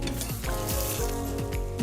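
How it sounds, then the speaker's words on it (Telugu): Fried eggs sit in a thickened sauce in a pan, giving a close, steady sizzle with soft stirring scrapes, and no one speaks. "ఇలా సాస్ చిక్కబడిన తర్వాత ఇందులో మనం ఫ్రై చేసి పెట్టుకున్న ఎగ్స్ని వేసుకోవాలి"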